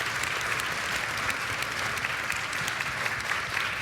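Sustained applause from an audience at a mystery writers' panel at BEA 2012, dense even clapping without pause, moderately loud.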